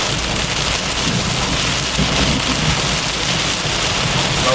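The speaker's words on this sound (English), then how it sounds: "I can hear thunder. It must have been quite close." Heavy rain pours steadily during a Florida thunderstorm, a dense, loud wash of drops with low thunder rumbling underneath throughout.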